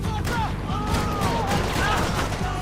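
Gunfire in a video game, a continuous rattle of rapid shots at steady loudness, with a few whistling ricochet-like streaks and some voice underneath.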